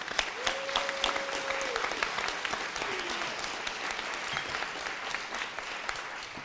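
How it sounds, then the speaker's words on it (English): An audience applauds panelists at a housing event, a sustained round of dense clapping, steady and moderately loud throughout, with a brief voice near the start. "Let's give one round of applause to the panelists."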